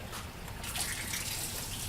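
Running water from an Enagic Kangen ionizer machine set to its highest Kangen water setting, a steady close stream splashing into a container without pause.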